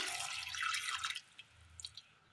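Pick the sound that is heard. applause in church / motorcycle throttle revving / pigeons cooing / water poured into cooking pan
water poured into cooking pan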